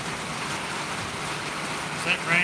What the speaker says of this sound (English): Is that rain very loud?